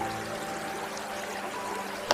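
Steady rushing of a waterfall pouring, a continuous even wash of water noise close by, with one brief sharp knock near the end.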